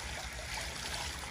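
Water rushing and splashing as a batch of tilapia fry is poured into a rooftop fish tank, a steady close trickling wash with no talking.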